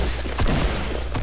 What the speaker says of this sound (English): Gunshots, bro. Gunshots.